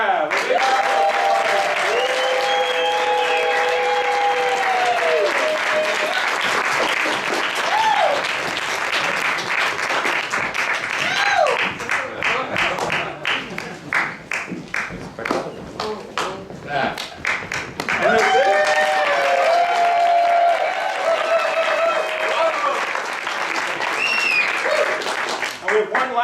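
An audience at a live theater show applauds loudly and continuously for the cast, dense clapping sustained throughout with speech heard over it.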